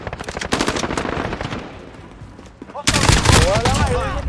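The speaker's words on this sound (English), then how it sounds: "are you shooting this man in the chest?" Rapid automatic gunfire in a video game, loud and continuous bursts that ease briefly then return heavier, with a voice talking over the shooting.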